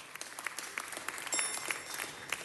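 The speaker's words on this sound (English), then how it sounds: "let's give them a round of applause" A city council meeting audience claps in a short, scattered round of applause, fairly soft and uneven, with individual claps standing out.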